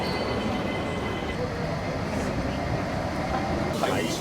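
A passenger train ride on an airport transfer in Hong Kong: a steady, loud rumble of the moving carriage continues throughout, with a brighter screech or clatter rising near the end.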